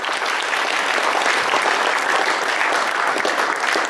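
Loud, sustained applause from a crowd at a chamber of commerce banquet, steady clapping filling the whole stretch without pause.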